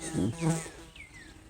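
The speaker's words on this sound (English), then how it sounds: "Oh, you got a bee here." A bee buzzes close by outdoors near a no-trespassing sign, a short loud buzz that flares up and fades, with faint swooping whines as it darts around.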